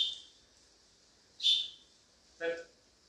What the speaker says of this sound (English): One whistle, go and sit down.